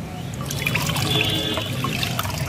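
Liquid fertilizer diluted with water pours steadily from a mug into a garden bucket, a continuous close splashing trickle lasting throughout with no talk.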